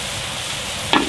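Food is stir-fried in a pan for a Tay ethnic wedding feast in the northwest Vietnamese highlands, giving a steady close sizzle with a brief scrape or clatter near the end.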